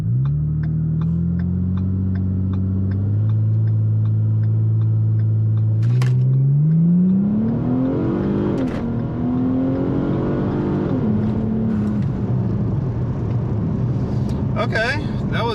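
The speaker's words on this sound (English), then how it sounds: "this time I'm just gonna build boost and drive and see what happens" A Ford Taurus SHO engine revs up under boost and the car accelerates hard, a loud steady drone climbing in pitch with gear changes, with a few voice sounds over it.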